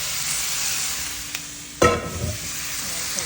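Pork hits a hot pan for Filipino pork curry. A sudden loud sizzle flares up and then settles into steady close frying with some stirring.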